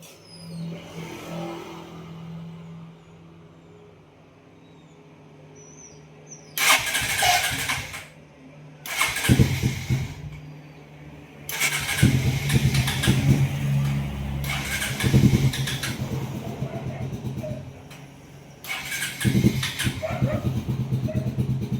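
A Bajaj Rouser NS 160 motorcycle with hard shifting being started: faint clicks and quiet background, then several loud cranking bursts before the engine catches and idles with a few revs, close by.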